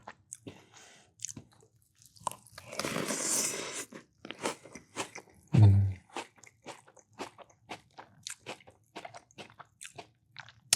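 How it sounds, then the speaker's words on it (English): Fruity Pebbles cereal is chewed close to the mic, loud crunching bites followed by a run of rhythmic munching and squishy chews, with a brief burst of rustling in between. "It is exciting to be eating cereal."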